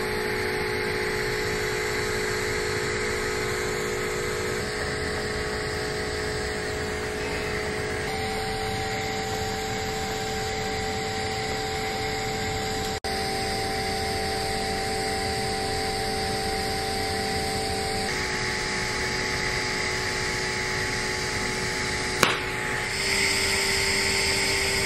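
A root pass being welded on stainless steel pipe, a steady, loud, unbroken hiss and hum with slight shifts in tone and a sharp click near the end, with no talking.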